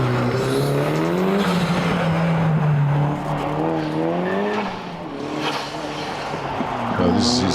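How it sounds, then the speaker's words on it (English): A 1600 Datsun race car climbs a hillclimb course, its engine loud and close with rising and falling revs through gear changes, and a commentator talks over it. "Reece Molden now on track in his 1600 Datsun."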